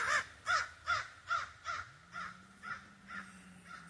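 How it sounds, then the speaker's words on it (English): A flock of crows cawing as they fly over a campsite, a steady series of about ten harsh caws spaced evenly, loud at first and fading as the birds pass, with a low engine drone rising in the background. "Here come the crows flying over."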